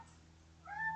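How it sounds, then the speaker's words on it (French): A domestic cat carrying a small mouse lets out one short meow near the end, fairly faint and close, after a quiet indoor pause. "C'est mon chat qui ramène sa petite souris. Je ne sais pas si vous l'entendez."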